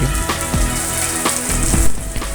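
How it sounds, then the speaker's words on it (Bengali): Monsoon rain falls steadily in Dharmanagar, a dense continuous hiss of drops with a few sharper spatters, heard alone without voices. "সক্রিয় মৌসুমী বায়ু প্রবাহে ধর্মনগর সহ দেশের প্রায় স্থানেই বৃষ্টি হচ্ছে।"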